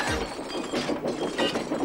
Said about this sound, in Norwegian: De kastet stein. Knuste ruter, klaget vognene.